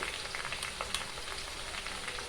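Asafoetida dropped into hot oil for a Diwali chivda gives a quiet, steady sizzle with small crackling pops scattered across a few seconds.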